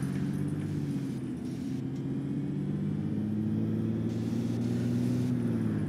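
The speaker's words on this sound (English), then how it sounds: "We just have to listen to the Citaro gears at this point" The engine of a Mercedes-Benz O530 Citaro bus in the OMSI 2 simulator drones in a steady, close low hum, its pitch rising and falling gently through the gear changes.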